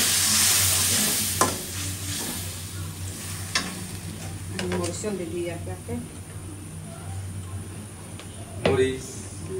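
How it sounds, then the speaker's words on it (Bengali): Shrimp fry in a pan with a steady sizzle, broken by a few sharp scrapes and clanks of stirring, while a person talks over the cooking. "চিংড়ি মাছ দিয়ে ভাজা ভাজা হয়ে গেছে"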